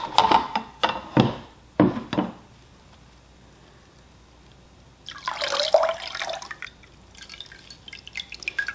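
A freshly dyed yarn cake is lifted from a dye bath, first sending a few loud splashes and pours of water back into the bath, then a quiet pause, then a steadier patter and trickle of dripping water.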